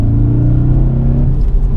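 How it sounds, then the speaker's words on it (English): An Audi RS4 B7 V8 engine revs hard from inside the car, a loud deep droning pull with rising pitch that eases off near the end. "It just revs and revs and revs."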